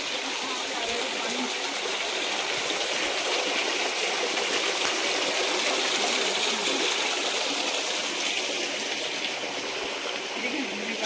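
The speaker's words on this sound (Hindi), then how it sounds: "कितने ऊपर से आ रहा है ना ये पानी" Water falls from a height into a forest stream with a steady, dense, close rushing roar that stays unbroken throughout, with no clear voices over it.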